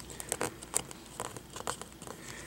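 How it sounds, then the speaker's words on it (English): Adhesive tape pressed down by hand on an Acer V5-571P laptop touchscreen during an LCD replacement, giving soft close-up crinkles and a few sharper crackly bursts scattered across a quiet background. "And again, put the adhesive tape down."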